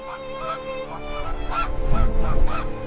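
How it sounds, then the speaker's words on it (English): Flock of geese honking repeatedly, several overlapping calls at a steady rhythm, fairly near and growing louder toward the end, with no voices. "A flock of geese veers off course in confusion."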